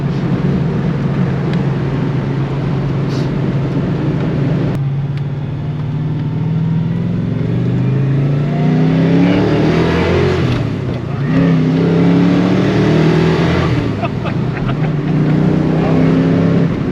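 A 1972 Ford Falcon XY GT engine revs steadily to about 4,500 rpm, climbing and falling in pitch in repeated waves, loud and close, with road or wind noise throughout.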